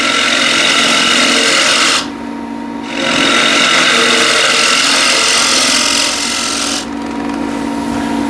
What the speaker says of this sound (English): I have this 38 mil behemoth of a scraper.